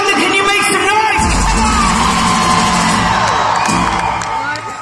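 Concert crowd at The Roundhouse in London cheering, whooping and shouting in a dense continuous roar, loud and close, with individual yells rising above the mass throughout.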